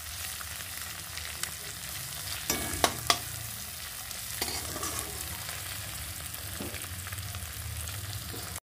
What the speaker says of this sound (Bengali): ডিমটাও আমার ঝুড়ো ঝুড়ো করে ভাজা হয়ে গেছে